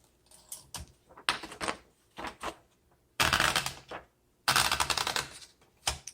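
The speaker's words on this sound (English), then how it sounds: "let's go ahead and do some typing" Keys clack on a 1967 Olympia SM8 vintage manual typewriter in short bursts of rapid strikes separated by pauses, with louder mechanical carriage movements, close and crisp, no talking.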